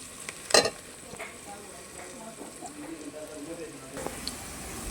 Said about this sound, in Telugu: ఎల్లుల్లిపాయ, ఎండుమిర్చి, తాలింపు వేగుతుంది కదా